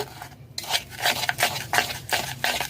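Sugar and ghee are beaten together in a bowl, a utensil scraping and knocking in quick, repeated strokes, close and fairly loud with brief pauses between bursts.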